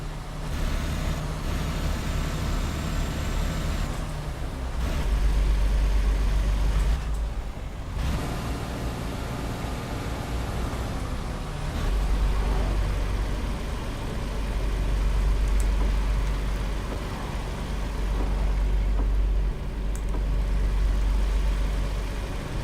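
A truck's turbo engine in American Truck Simulator rumbles low and heavy with a steady idle-like drone, swelling and easing in waves, with a couple of brief drops.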